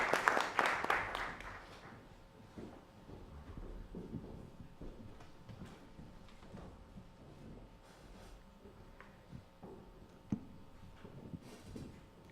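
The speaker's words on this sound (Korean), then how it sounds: "최성해 동양대 총장님 박수로 맞으시기 바랍니다." Applause from an audience at a private university presidents' summit panel, welcoming a university president; a short loud burst at the start that quickly fades into quiet room noise and scattered sounds.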